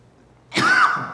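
A single short throat-clearing cough from a man teaching a church class, close to the mic and alone against a quiet room.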